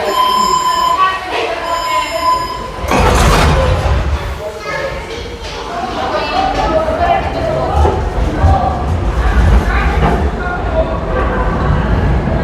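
A short Budapest Metro Line 1 train runs at a station on the city's oldest, historic subway line, with rumbling and heavy thumps heard close under ongoing talking.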